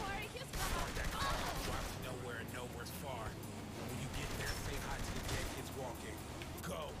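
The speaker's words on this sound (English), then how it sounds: "Ooh, gunshot." Gunfire in Saints Row: The Third crackles in scattered bursts, fairly faint and partly buried under steady conversation between players.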